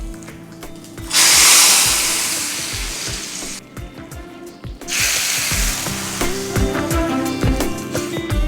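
Hot curry-leaf and asafoetida tempering poured into amla dal rasam, a loud bright sizzling burst that fades and then flares again, with clinking of a utensil against the pot.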